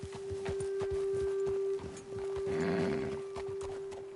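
Horses walking in Red Dead Redemption 2, with steady clip-clopping hooves on the ground over a constant tonal game hum, repeated hoofbeats throughout and a brief scuffle of movement midway.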